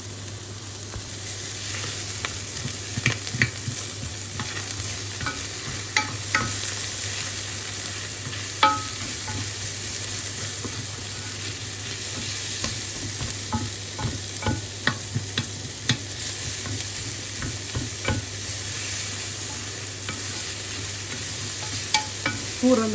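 Onions sizzle steadily in a pan while a utensil stirs and scrapes, sharp clicks and scrapes scattered over the constant frying hiss, close and moderate in level.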